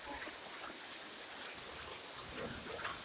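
Rain falls steadily during a windy thunderstorm, a faint even patter with occasional louder drops and splashes.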